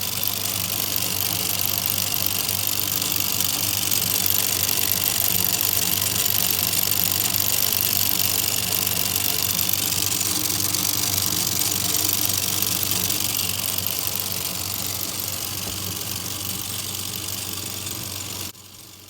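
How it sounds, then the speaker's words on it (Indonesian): Homemade motorless machine running on a 12 volt adaptor gives a continuous, even mechanical whir and hum, close and steady for the whole stretch, with no voices. "langsung kita skip aja ke momen dimana mesinnya udah gue jalanin"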